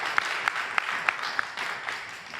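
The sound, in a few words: round of applause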